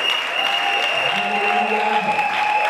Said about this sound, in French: j'aimerais qu'on acclame le Seigneur pour ces femmes